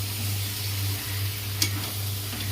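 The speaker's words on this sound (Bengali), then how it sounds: "এবার নাড়বো" Young jackfruit stirred in hot oil in a home kitchen pan, a low steady sizzle with soft scraping of the spoon and one sharp clink near the middle.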